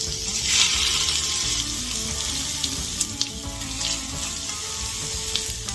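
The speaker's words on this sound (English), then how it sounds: "Love that sizzle sound." Steady, crackling sizzle of bacon frying in a hot pan, with occasional sharper pops over a constant hiss, close up and without speech.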